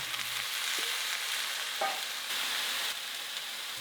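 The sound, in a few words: seaweed stems stir-fried with minced garlic in an oiled pan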